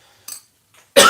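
A single sharp cough bursts out near the mic after two faint short throat sounds, in a kitchen while cooking with onion, chile and tomato.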